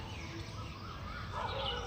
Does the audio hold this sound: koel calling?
yes